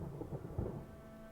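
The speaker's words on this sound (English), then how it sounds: "Thunder." Thunder from a storm in the video game Genshin Impact rumbles low and faint, with a soft rolling boom and the hiss of rain, and no voices over it.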